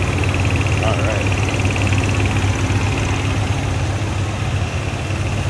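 A 1964 Chrysler 300K convertible engine idles steadily with the air-conditioning compressor engaged, a continuous low rumble and hum heard close up under the open hood, with faint speech over it.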